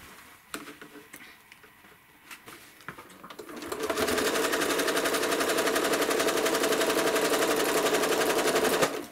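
A home sewing machine stitches hourglass quilt blocks, starting with quiet handling and a few clicks before the motor kicks in around four seconds and runs in a fast, steady, close-up whir until it stops near the end.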